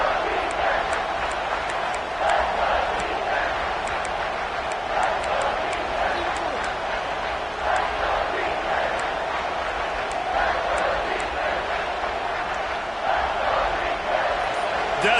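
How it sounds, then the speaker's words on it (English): A college football stadium crowd roars steadily on third down, a broad continuous wall of noise under an announcer's voice, with sharp whistles and shouts scattered through it. "Decibels rising as the crowd gets behind this defense on third down."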